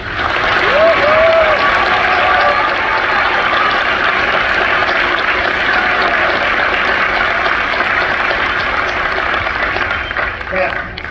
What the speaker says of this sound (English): Everyone, please join me in giving them a round of applause for their incredible work.